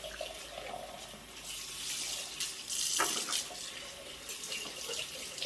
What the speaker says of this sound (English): I just need to give them a good clean with soap and water